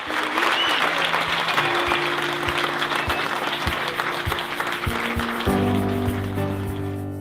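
Enthusiastic applause from a visually impaired audience at the end of the play O Rei da Vela, dense steady clapping filling the hall, with a low sustained tone and a few low thumps beneath it.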